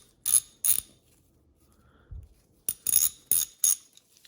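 Husky professional ratchet, an older style tool in need of grease, clicking loudly and close in short bursts of rapid ratchet clicks separated by pauses, with a faint dull knock in the middle.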